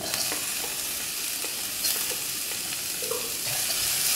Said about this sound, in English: So we have our ginger and garlic frying